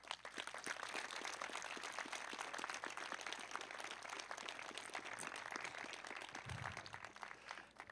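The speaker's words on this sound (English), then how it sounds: "We need to give them a big round of applause" Audience applause at a school concert: steady, faint clapping from a crowd that goes on throughout without a break.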